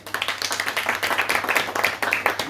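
An audience claps for an author introduced at a literary afternoon gathering, a dense, steady patter of many hands lasting throughout, fairly close and uninterrupted.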